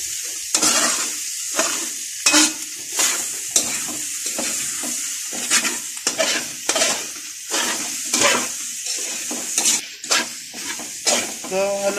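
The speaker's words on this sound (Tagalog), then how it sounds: "halo-haloin lang po natin hanggang maluto yung squid nyo" Egg and bitter gourd stirred in a sizzling frying pan, a steady fry hiss under repeated close scrapes and clacks of the utensil against the pan, with a voice speaking at times.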